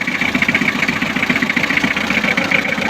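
A Mitsubishi L300 with a 4D56 diesel engine, freshly fitted with a replacement cylinder head, idles steadily close up, giving off a rhythmic mechanical clatter and a low throb with no talking.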